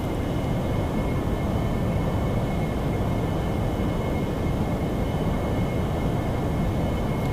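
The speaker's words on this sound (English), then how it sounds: "we're going to add a little bit of power now" AV-8B Harrier jet engine in DCS World on a conventional landing approach, producing a loud, steady, broadband roar with a faint high whine that holds level and continuous throughout, with no voices.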